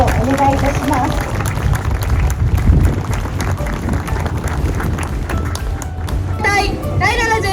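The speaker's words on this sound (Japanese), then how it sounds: "皆様、盛大な拍手をお願いいたします。" Audience at an air show ceremony clapping steadily, a dense sustained wash of applause from a large outdoor crowd, with an announcer's voice speaking over it near the end.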